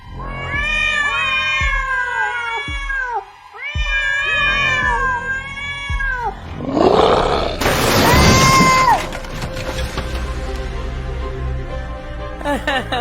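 Several cats meow in a drawn-out, wailing series of cries, loud and close. A burst of rougher noise follows, with a further meow inside it, and then the sound fades into quieter clatter.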